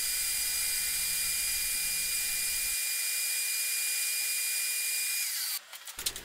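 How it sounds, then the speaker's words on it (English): A disc sander whines steadily while shaping a wooden centre block for an ES-335-style guitar build, loud and continuous, then winds down into a few clunks and knocks. "take that to the disc sander and just finesse that until I get the shape that I need"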